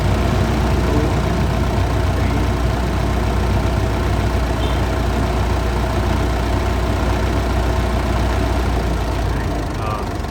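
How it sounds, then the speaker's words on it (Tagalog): An air conditioning compressor runs under the hood of a Mitsubishi Montero Sport with a suspected thermistor fault, a steady close mechanical hum and engine drone that holds evenly for several seconds. "9 seconds lang po ang andar ng compressor."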